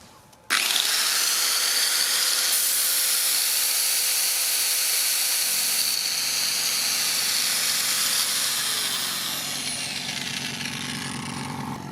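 A 750-watt air compressor starts abruptly and runs while powered by a FOSSIBOT F1200 LiFePO4 solar power station, building pressure toward 6 bar with a loud, steady motor whine and mechanical hum. The pitch sags slightly near the end, and no one speaks.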